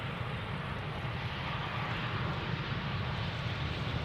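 The engines of a Cathay Pacific Cargo Boeing 747-8 freighter landing at Amsterdam Schiphol give a constant, heavy rumbling roar with a rough low-end texture. The roar is sustained and fairly close, and no one talks over it.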